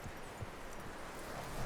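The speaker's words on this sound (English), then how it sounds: "That looks like a decent horse." Horse hooves clip-clop at a steady walking pace in the Red Dead Redemption 2 game, soft and moderately close over a rumbling outdoor ambience, with no talk.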